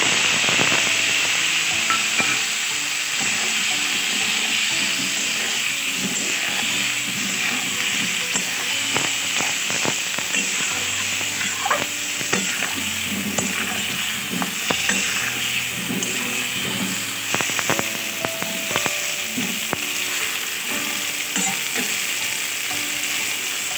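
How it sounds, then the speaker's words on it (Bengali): Soaked spice paste sizzles and fries steadily in a pan for a meatless potato dum, with clinks of stirring and scraping over the constant crackle, close and loud. "আমার যে মশলাটা আমি ভিজতে দিয়েছিলাম সেটা দিয়ে দিচ্ছি এর উপর"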